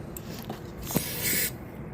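A short hiss of Gum Out carburetor cleaner sprayed into a Honda GCV small-engine carburetor, one brief burst of about a quarter second amid quiet handling noises, close by.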